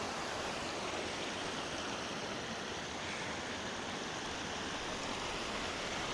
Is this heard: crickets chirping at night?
no